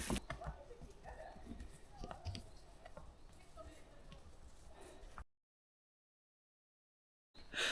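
Horses walk along a forest path with soft, uneven hoof clops and rustling mixed with voices, then the sound cuts to silence before returning briefly.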